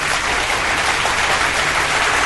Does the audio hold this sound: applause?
yes